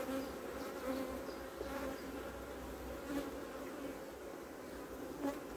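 Honey bees swarm densely over a lifted hive frame in a steady, close buzzing drone with no speech.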